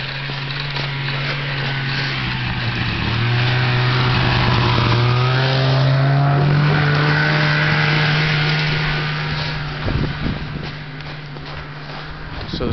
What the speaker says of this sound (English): And I can hear a snowmobile coming.